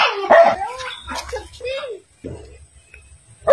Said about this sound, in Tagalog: Tinatahulan ng aso.